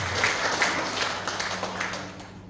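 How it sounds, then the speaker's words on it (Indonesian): A congregation claps during a church service, a dense wash of applause with a low hum under it that thins slightly toward the end. "Boleh tepuk tangan,"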